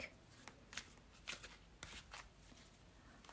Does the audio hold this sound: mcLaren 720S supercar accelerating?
no